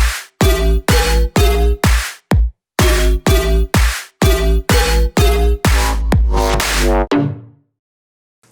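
Electronic house music track with punchy, rhythmic stabs and heavy bass hits in short chopped bursts, loud and alone, ending with a ringing tail into silence.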